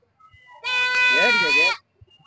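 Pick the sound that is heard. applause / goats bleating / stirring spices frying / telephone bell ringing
goats bleating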